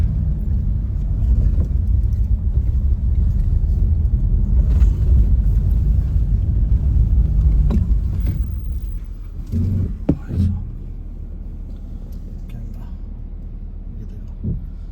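A car drives at night along a mountain road in the Himalaya range, a low steady engine rumble close by that fades down near the end, with a few soft knocks and murmured voices.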